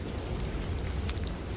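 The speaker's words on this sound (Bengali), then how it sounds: "চারিদিকে তখন ঝড় আর বৃষ্টি।" Steady, dense rain pours down as a storm sound effect, a continuous wash of falling water with a low rumble of thunder underneath, with no voices.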